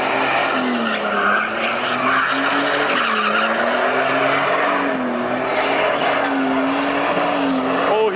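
Car tires squealing continuously at a rowdy car meet in Bakersfield, a loud sustained wailing screech with engine roar throughout, no talking heard.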